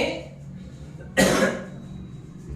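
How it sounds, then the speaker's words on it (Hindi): A single sharp cough breaks a quiet background, close to the microphone, followed by a brief fading rasp. "खांसी हो गया थोड़ा।"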